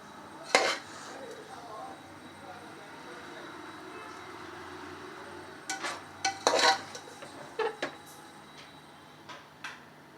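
Spoon stirring vangi bath in a cooker pot, scraping and clinking in a few sharp bursts after a long quiet stretch, fairly close but soft against a low background hum.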